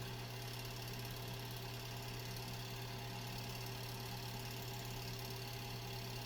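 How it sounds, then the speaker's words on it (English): A White 1514 sewing machine runs steadily while winding a bobbin, giving a continuous, even motor hum with a low mechanical drone throughout, fairly quiet and without talk. "Now we're ready to wind the bobbin."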